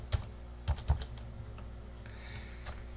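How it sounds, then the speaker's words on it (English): Keys on a computer keyboard clack in a few quick, soft taps close by, with a brief run of lighter keystrokes after, all fairly quiet and with no voice. "I'm going to type in Flubaroo."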